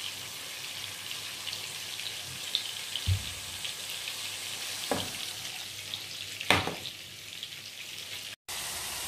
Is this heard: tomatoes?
yes